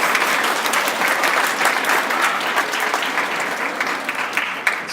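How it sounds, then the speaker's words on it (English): Students applaud their parents at a middle school band concert, a dense, steady wash of many hands clapping at once, loud and sustained throughout with no talking over it. "clap for your parents."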